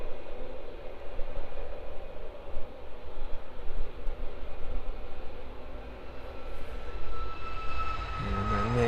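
A Boeing 777 cargo jet bound for Leipzig starts up at East Midlands Airport, heard as a steady, broad, distant engine roar and whine that holds throughout.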